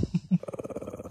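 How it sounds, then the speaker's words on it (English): A dog growls close by in short, rumbling bursts that run into a steady, pulsing growl, alone with no talk. "I love him, but he does like to growl."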